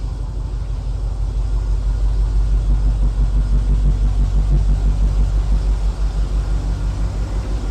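A GMT800 Chevy Silverado pickup truck drives along, its engine a loud, steady low rumble heard from close by with a slight pulsing throb, with no talking.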